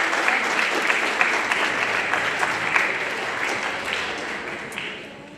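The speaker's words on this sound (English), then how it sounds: "we should give our parents a round of applause and thank them for participating" Audience applause fills a school auditorium at a spring band concert for a middle school, steady dense clapping from a sizable crowd throughout, fading slightly at the end.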